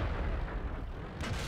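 A tank cannon firing in the World of Tanks video game, one deep heavy boom with a rumbling tail over steady low battle noise, no voices.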